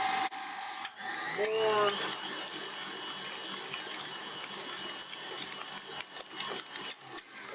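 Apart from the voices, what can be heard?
electric mixer mixing cream cheese frosting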